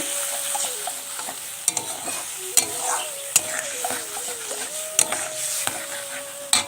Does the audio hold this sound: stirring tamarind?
yes